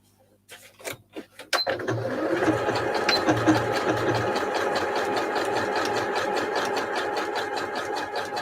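Sewing machine zigzag stitching a fabric scrap, a few short starting bursts and then a close, steady, fast-rhythm whirring run of stitching that continues alone to the end.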